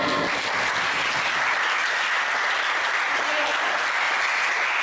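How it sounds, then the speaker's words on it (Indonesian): Loud applause from an audience at a Dhamma talk in a Buddhist vihara, a dense, continuous burst of many hands clapping throughout, with a voice faintly audible at the very start. "Tepuk tangan."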